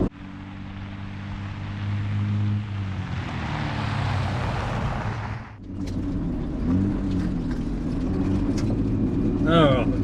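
A 4x4 rolling downhill toward a river crossing in Australia's high country, steady engine and tyre rumble with a brief dip midway, the driver coasting off the brakes, close and continuous.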